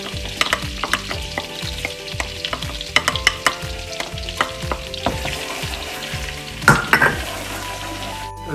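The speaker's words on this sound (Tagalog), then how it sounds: "Then pwede na natin ilagay ang ating garlic." Garlic sizzles and fries in melted butter and oil in a pan, a steady close crackle broken by repeated stirring clatter and a brief louder burst of sizzle near the end.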